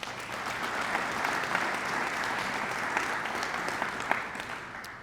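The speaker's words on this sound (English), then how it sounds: "Please give them a round of applause." Applause from a school audience at a ribbon-cutting ceremony, a steady broadband clatter of many hands sustained for about five seconds at moderate distance with no talk over it.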